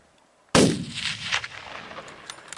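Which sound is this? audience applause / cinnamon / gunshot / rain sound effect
gunshot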